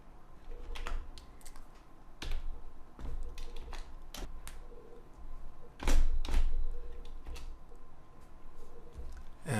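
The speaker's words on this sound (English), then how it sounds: "So right before the video code, I type in a div start tag." HTML code being typed on a computer keyboard, with irregular bursts of close, crisp key clicks and a few heavier thumps, including a louder clack near the middle, over a low background hum.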